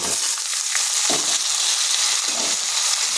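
Vegetables for Bengali shukto, papaya, carrot and drumsticks, go into hot oil with lightly fried potatoes, setting off a steady, loud, continuous sizzle that keeps up without a break.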